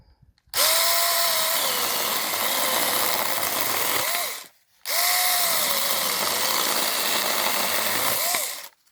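A new Krafftec cordless mini saw cuts through a branch in two sustained bursts of a few seconds each, a loud buzzing, rasping motor whine with a short pause between the cuts.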